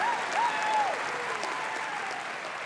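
An audience at the CUFI Summit claps in a dense, sustained wave of applause, steady and fairly loud throughout with a few faint whistles riding over it.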